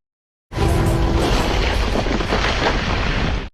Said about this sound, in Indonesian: batu jiwa itu meledak